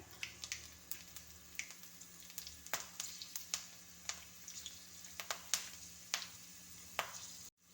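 Red chilies crackle in hot oil after mustard seeds for a pineapple pachadi tempering, a faint sizzle broken by sharp irregular pops and spatters throughout.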